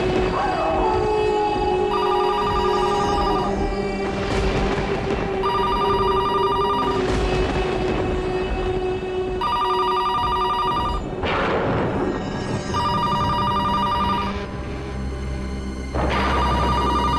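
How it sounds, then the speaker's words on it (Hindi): An old-style telephone bell rings repeatedly in regular bursts with short pauses between, loud and close over a busy background. "फोन इतनी रात को? दिन में तो कभी फोन की घंटी बजती नहीं।"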